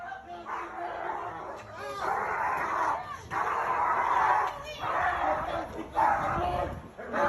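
A dog barks and whimpers during a pit bull attack on a dog tied up in a garage, with loud yelps in repeated bursts and people talking close by throughout.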